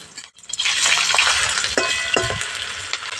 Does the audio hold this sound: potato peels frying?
yes